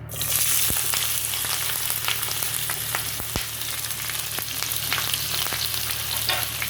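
Onion, tomato, green chili and curry leaves frying together in hot oil crackle and sizzle steadily up close, with sharp pops and spatters scattered throughout.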